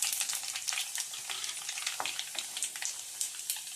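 Cut dried red chilies and cumin seeds crackle in hot oil as a tempering, with a busy, close sizzle of small pops and occasional stirring; no talking.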